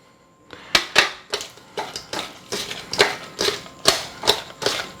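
Peeled, cleaned shrimp are kneaded and squeezed with salt by hand, making a run of about a dozen evenly spaced, close, wet squishing bursts with no talking.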